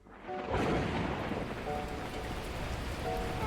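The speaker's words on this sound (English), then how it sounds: "that moment, the heavens opened up, unleashing torrential rain." Heavy torrential rain pours down in a thunderstorm in the game Beacon Pines, bursting in suddenly after a quiet start and then holding as a dense, steady roar with no voices.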